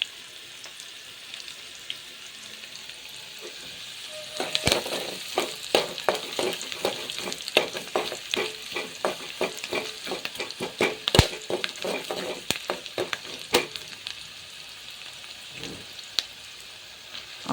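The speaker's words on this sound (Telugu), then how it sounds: "తర్వాత మనం కట్ చేసుకున్న ఆనియన్ను ఆయిల్లోకి వేసి ఫ్రై చేసుకోండి." Chopped onions sizzle steadily in hot oil in a pan while a spatula stirs them, scraping clicks and crackles repeating over the sizzle, close and fairly loud, with no talking.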